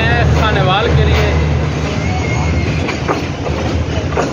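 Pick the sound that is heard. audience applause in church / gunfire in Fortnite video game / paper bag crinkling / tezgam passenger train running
tezgam passenger train running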